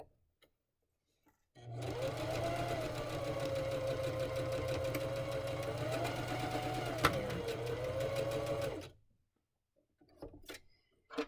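Sewing machine stitching a dart forward and back, a steady close motor hum with fast rhythmic needle clatter lasting about seven seconds, then stopping, followed by a few faint handling clicks.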